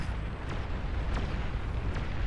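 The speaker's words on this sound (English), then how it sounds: "That's a long-range plasma cannon." Long-range plasma cannon fire in the real-time strategy game Beyond All Reason: a dense, rumbling roar of explosions with three sharp, distant booming shots spaced across the barrage.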